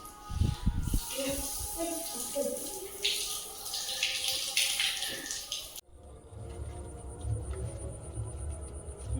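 A child splashes and stirs water while being bathed in a bathroom, sloshing and dripping close by under an adult's voice, then the scene shifts to a steadier, lower running-water wash.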